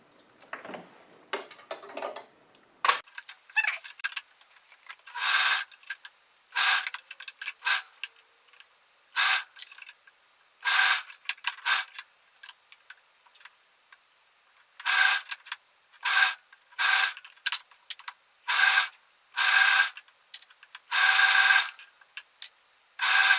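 A sewing machine stitches the waist seam joining a 1930s-style dress bodice to its skirt in short repeated bursts with pauses between, close and clear, after some handling noise at the start.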